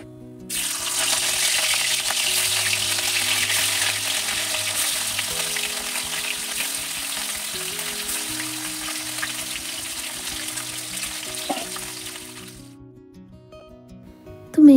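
A few pieces of fish fry in a pan with a loud, steady sizzle that runs unbroken for several seconds, then cuts off abruptly near the end as a faint low hum continues underneath.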